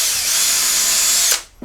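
A power drill bores a hole through a pair of table saw inserts clamped in a vise, a loud steady high whine that spins down abruptly at the end.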